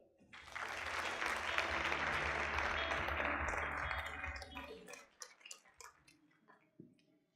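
An audience claps for a guest speaker introduced at a Beta Gamma Sigma leadership summit, a dense, steady round of clapping that fades into a few scattered claps and small noises after about five seconds.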